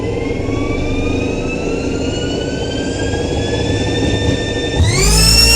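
A machine tool spindle runs up to 9,000 rpm, giving a steady, loud whine that climbs gradually in pitch before jumping higher near the end, with coolant running and no talk.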